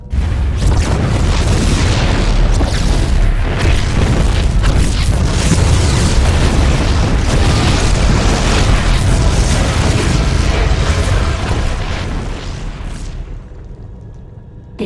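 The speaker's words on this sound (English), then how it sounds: "The explosions have stopped." Dense, continuous booming explosions in StarCraft II: Heart of the Swarm roar loudly and rapidly for most of the stretch, then thin out and fade near the end.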